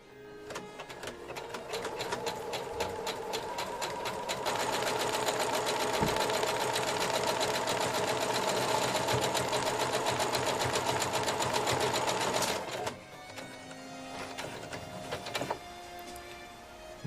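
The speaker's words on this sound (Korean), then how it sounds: "모든 작업이 완료되면 발판을 밟고 있는 상태여도 알아서 재봉기는 멈춰지게 됩니다" An industrial embroidery sewing machine stitches into fabric, a fast, steady mechanical whirring and clatter of rapid needle strokes that builds, holds for several seconds, then stops and gives way to quieter clicks and motor hum.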